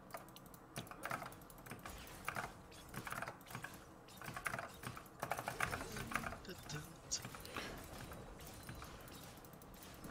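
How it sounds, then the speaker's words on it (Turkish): Computer keyboard typing clatters close by in quick irregular bursts during a gaming stream, with game sounds and a voice talking over it throughout. "Bu arada muhtemelen benim bir klavye sesi çok geliyordur ya."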